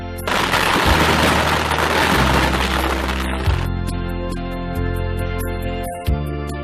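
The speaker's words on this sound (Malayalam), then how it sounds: "അതിഗംഭീരമായ വെടിക്കെട്ടും" Loud festival firework explosions at a church feast in Kottekad boom repeatedly, several deep thumps spaced a second or so apart, with crackling bursts and ringing tones between them.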